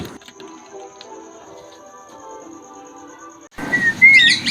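Pet birds in breeder colony cages chirp and whistle close by in bright, rapid bursts that break in loudly near the end after a quieter stretch of faint background tones.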